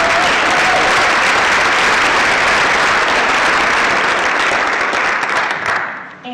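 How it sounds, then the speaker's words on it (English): A school staff audience at a recognition ceremony applauds loudly and continuously, dense close clapping from many hands that holds steady before tapering off near the end. "So I think you should all applaud yourselves."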